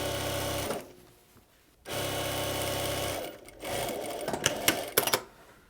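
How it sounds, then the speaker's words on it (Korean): A sewing machine stitches a fabric seam with the right sides facing, running in two steady bursts with a pause between, followed by lighter handling clicks and rustles. "안안끼리 마주보고 박음질 하고 있습니다"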